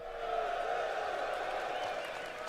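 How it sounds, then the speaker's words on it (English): A large crowd cheers and roars steadily at the CitCon convention in Hall B, Manchester Central, a sustained dense wash of voices and applause throughout. "this is where you're all going to cheer"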